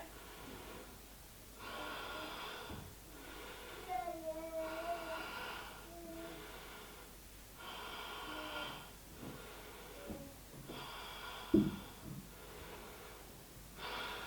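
Slow, deep breaths during a yoga pose, each inhale and exhale a soft airy rush lasting a second or two, repeated about five times at a calm, even pace, close and quiet with no talk.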